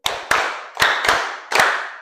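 Classroom group doing a rhythmic clapping chant: five sharp, loud hand claps in an uneven pattern, with no talking.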